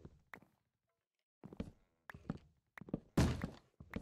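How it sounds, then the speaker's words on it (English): Banging on a door in a Minecraft-style video game, a series of separate dull thuds in uneven clusters after a short silence, close and moderately loud. "Oh, who's banging on the door?"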